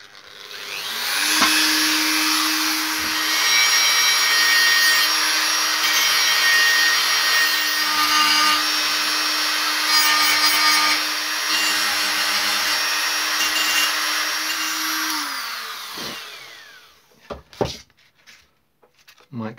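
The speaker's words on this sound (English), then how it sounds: "I think I might just have a go with the Dremel with this bit." A Dremel rotary tool grinds on car bodywork with a loud, steady high-pitched whine that runs unbroken for about fifteen seconds and then winds down, followed by a few faint handling knocks.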